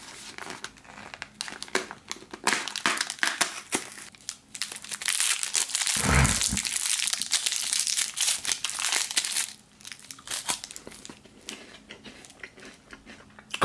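A Kinder Bueno White wrapper is handled up close, giving sustained crisp crinkling and crackling with a brief louder tear midway. No one speaks.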